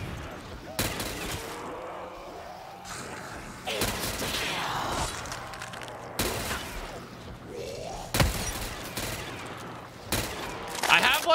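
Gunfire and weapon mechanisms in a zombie tower video game, with bursts of shots, clanks and ratcheting reloads, mixed under a player talking at moments.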